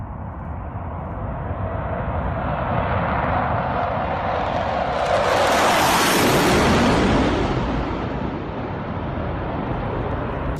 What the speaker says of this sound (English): This is the Blue Angels taking off in a diamond formation with F-18s